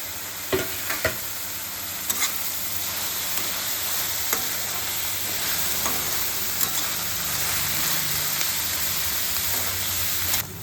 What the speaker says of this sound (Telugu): ఉల్లిపాయ అల్లం వెల్లుల్లి పేస్ట్ బాగా వేగిందండి.